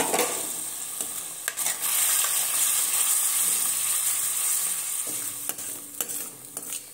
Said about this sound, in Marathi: आता आपण हा जो घोळ तयार केलेला आहे तो यात घालून देऊ।